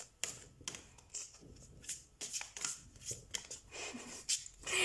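Tarot cards shuffled by hand, a series of crisp riffling flicks and taps in an uneven rhythm, close and fairly quiet with no talk.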